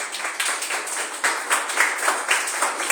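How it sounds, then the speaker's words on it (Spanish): An audience applauds students at an event, a lively burst of many hands clapping with slightly uneven rhythm and rising accents, fairly close and clear, with no talking over it. "Un aplauso para ellos."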